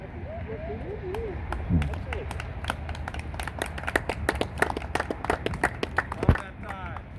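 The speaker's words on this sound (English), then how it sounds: "I like the fact that I get applause before I even say anything." Scattered claps from a small audience at a Salvation Army Tree of Lights kickoff, sharp individual hand strikes growing denser near the end, with voices murmuring underneath.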